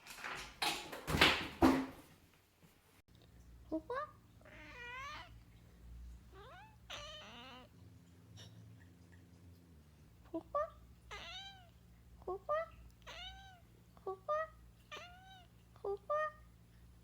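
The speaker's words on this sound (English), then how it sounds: "Noodle, are you a cat?" A cat meows repeatedly, several short rising and falling calls spaced a second or two apart, close and clear after a brief burst of rustling noise at the start.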